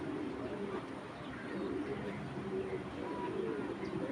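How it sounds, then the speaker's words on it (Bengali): A big female Mili racer pigeon coos softly and repeatedly against a steady background hum, fairly faint and without speech. "একটা চুইটাল মিলি রেসার মাদি কবুতর"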